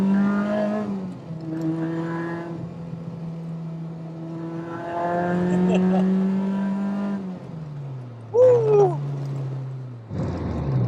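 A supercharged K20 Honda Civic Type R EK9 accelerates hard through the gears, its engine note rising loud and close with drops at each shift, and a sharp whine and bark near the end.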